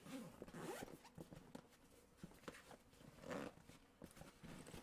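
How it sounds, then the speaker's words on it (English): A goalie backpack's zipper is pulled in several short, scratchy runs, with rustling of fabric and handling noises between strokes, close and fairly quiet. "And let's check this zipper too."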